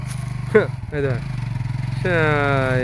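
A struggling motorcycle engine revs and labors through a hard pull, a steady mid-pitched drone that rises and strains, with scraping clatter and voices talking over it.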